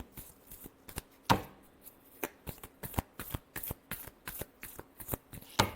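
Tarot cards are shuffled close by in a quick, uneven run of crisp snaps and riffles, with no talking.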